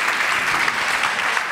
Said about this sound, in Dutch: Geef een warm applaus